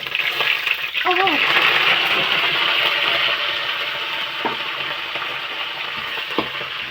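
Curry leaves drop into hot oil for a Telugu home-cooked dish, giving a steady close sizzle that swells and then eases. A brief faint voice-like tone rises near the start.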